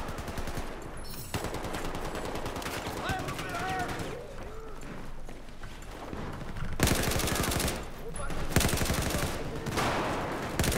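Remington 870 MCS shotgun fire in Battlefield 4, several loud sharp blasts spaced irregularly among other gunfire and combat noise, with a voice talking over the action.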